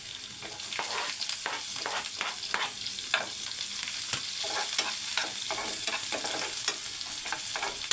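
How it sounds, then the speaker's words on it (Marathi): Finely chopped onion sizzles with garlic in a hot pan for a Marathi-style raw jackfruit bhaji, a steady frying hiss broken by repeated close scrapes and stirs of a spoon. "लसूण थोडी लाल झाली की आपण ह्याच्यामध्ये घालूया बारीक चिरलेला कांदा"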